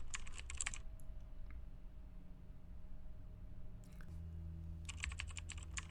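Quick computer keyboard typing while building a Google Sheets budget template, two short bursts of rapid key clicks at the start and end, close and clear over a low steady hum, no talking.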